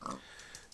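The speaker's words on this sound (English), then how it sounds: "And more pigs." A pig oinks in a video game, one short faint grunting snort at the start followed by quiet, sparse background.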